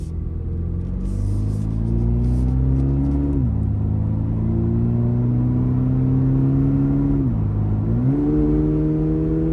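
A GR86 sports car engine accelerates toward 70 mph with a steady rising drone, dropping briefly at two gear shifts before climbing again.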